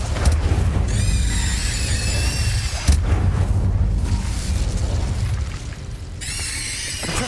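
A fire spell is cast in the combat of the Hogwarts Legacy video game, with loud, rumbling booms and crackling bursts running throughout, plus sharp bright flares near the start and end.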